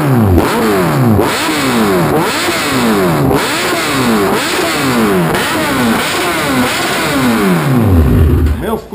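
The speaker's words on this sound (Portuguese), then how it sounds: "Vamos agora ao barulho sem a flauta." A loud Kawasaki Z1000 motorcycle engine revs repeatedly through an open 4-into-1 exhaust with the baffle removed, each throttle blip rising and falling in quick succession, ending in a deep, booming rev.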